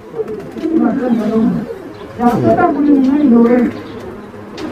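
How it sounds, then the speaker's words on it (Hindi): A pair of active desi pigeons coos close by in two rolling, throaty bursts separated by a short pause, loud and near, with no other sounds competing. "ये है जोड़ा एकदम एक्टिव कबूतर"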